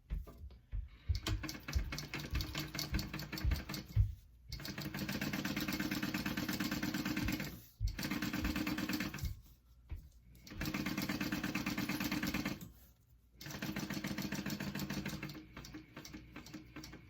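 A sewing machine runs in several steady, close bursts of rapid stitching on a handbag facing and zipper pocket, separated by short pauses, with a soft mechanical clatter throughout.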